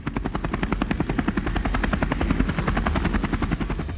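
A helicopter landing in Sahaspur village in Chhattisgarh, its rotor thumping in a fast, even, loud pulse that runs without a break through the whole stretch.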